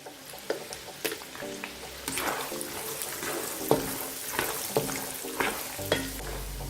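Peanuts and cashews fry in a pan for Kutta Avalakki, a masala poha mix, with repeated stirring scrapes and clatter over a steady sizzle, close and fairly loud, with no talking.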